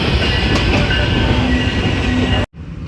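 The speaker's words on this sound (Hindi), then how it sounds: "वज़ीराबाद जंक्शन पहुंच गई हमारी ट्रेन 25 मिनट डिले के साथ" A passenger train pulls into Wazirabad Junction with a loud, close, continuous rumble of rolling wheels and a thin squeal, cutting off abruptly near the end to a quieter background.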